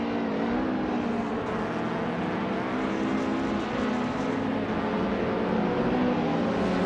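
Renault Clio 4S Cup race car engine in a racing video game, a steady loud droning whine holding high revs with slight pitch shifts and brief gear-change dips, no talking.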